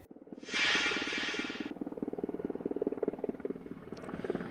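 A firefighting helicopter's rotor thumps in a steady rapid pulse overhead, loud and continuous, with a brief burst of rushing noise near the start.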